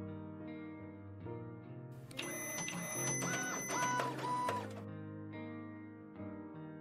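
A printer in the Toy Tinker Simulator video game whirs into action, a short burst of mechanical buzzing and rapid clicking between quieter stretches of game background sound, with no talking.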